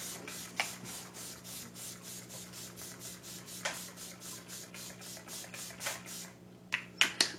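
A hyaluronic acid setting spray is pumped onto a face. Short, sharp misting bursts come at irregular intervals over a faint rubbing background, with a quick cluster of sprays near the end.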